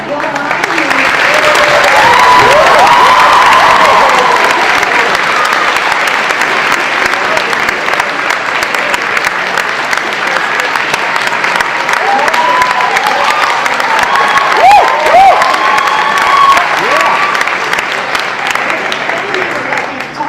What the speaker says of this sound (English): Would you please welcome Bill Nye?